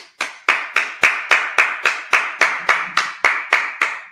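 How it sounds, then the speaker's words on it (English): Congregation at a Sabbath service clapping in unison, about fifteen sharp, evenly spaced claps in a steady beat, close and loud, with no talk. "Clap it up."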